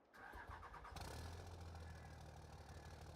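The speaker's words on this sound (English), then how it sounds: "we're going to go ahead and fire up this truck" A Cummins diesel truck engine cranks briefly, catches with a rough roar, and settles into a loud, steady low idle close by.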